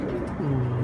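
Domestic pigeons giving a short, low cooing call, close and clear, a single soft rolling coo with no talking.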